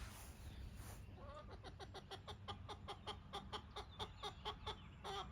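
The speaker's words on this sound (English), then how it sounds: "Mouthiest chicken I've ever seen." A rooster named Tom gives a rapid series of close, rhythmic clucks, building into a chattering run of short calls over a steady low background hum.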